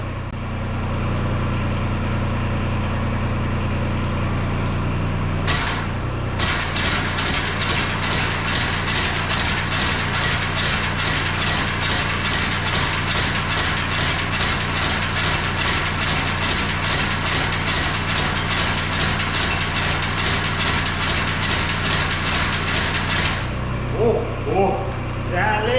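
An engine-driven homemade finger-bar mower mechanism for an excavator runs with a rapid, steady mechanical clatter for about eighteen seconds. A low engine hum can be heard before the clatter starts and after it stops.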